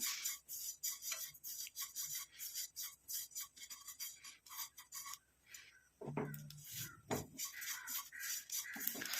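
Mustard seeds beginning to fry and splutter in hot oil, heard as a dense, steady crackle of small pops and rasping ticks, close and fairly quiet, with a louder burst of crackling partway through and no speech.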